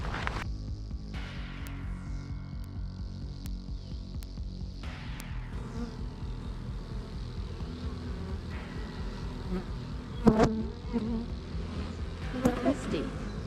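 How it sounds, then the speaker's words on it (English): Bees buzz around open beehives in a continuous, fairly soft drone, with a few faint knocks and clicks near the end. "Everybody has bees flying, so we have to figure out where these bees came from."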